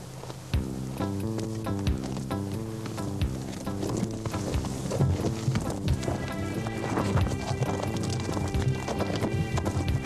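A horse's hooves clip-clop in a steady rhythm close up while it is ridden on hilly ground in British Columbia, Canada, with musical tones playing underneath throughout.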